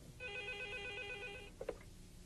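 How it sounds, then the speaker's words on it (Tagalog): A telephone rings with a rapid electronic trill for over a second, followed by a couple of soft clicks; fairly quiet. "pakisagot ang telepono"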